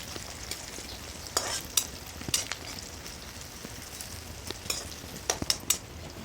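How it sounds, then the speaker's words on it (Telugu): Sliced onions and green chillies frying in a pan, a soft continuous sizzle punctuated by sharp, irregular scrapes and taps of a stirring spoon. "ఉల్లిపాయ పచ్చిమిర్చి మంచిగా ఫ్రై చేసుకుందాం"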